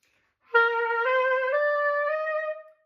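A single held reedy note from a student metal clarinet, slightly wavering and out of tune, sustained for about two seconds before stopping.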